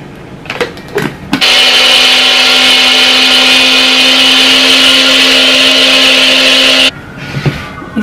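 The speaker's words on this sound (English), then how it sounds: "We need 80 grams of oat flour. So let me go on ahead and blend this real quick." A blender grinds oats into oat flour in one loud, steady high-pitched whir lasting several seconds, with brief kitchen clatter before and after.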